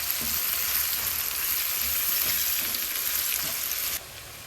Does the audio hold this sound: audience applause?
no